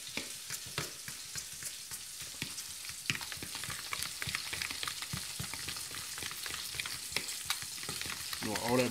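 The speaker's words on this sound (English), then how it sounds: "All that butter to melt too." Butter melts and sizzles in a hot pan for a pork tenderloin dish, a steady crackling fry with scattered sharp pops throughout, close and even in level.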